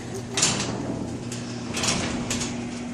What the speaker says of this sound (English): even if the garage door opens